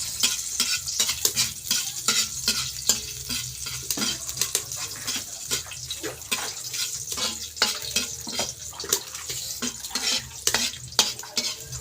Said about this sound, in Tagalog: Luya ang unahin natin para magkaroon ng langsa.